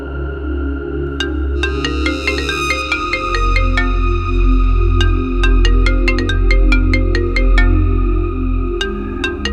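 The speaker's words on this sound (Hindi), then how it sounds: "अरे तेरी गर्लफ्रेंड का ही फोन आ रहा है" Mobile phone ringtone playing loud and close as a girlfriend calls, a bright repeating electronic melody of plucked tones over steady low background music, with no talking.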